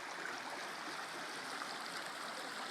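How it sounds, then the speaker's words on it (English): A small brook gurgles over little whitewater rapids in a creek by a covered bridge, a steady rushing and burbling wash of water that stays even and continuous throughout, fairly close and with no voices. "There's a little gurgling brook here."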